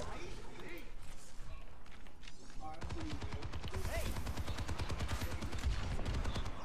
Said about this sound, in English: so you're definitely shooting the bike